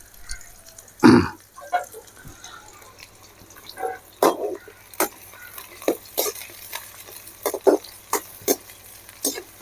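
Chopped onion frying in hot oil in a pan for a crab and potato fry, giving a low sizzle broken by scattered spoon scrapes and clinks, one louder knock early on, close up with no talking.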